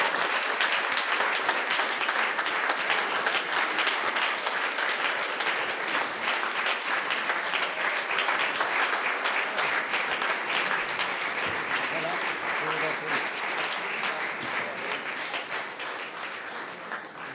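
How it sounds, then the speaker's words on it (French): Audience at an award ceremony for the Edgar Faure Prize applauding a book, a sustained, dense wash of clapping from many hands that stays loud and steady throughout, fading slightly near the end. "Vos applaudissements prouvent votre sentiment sur ce livre"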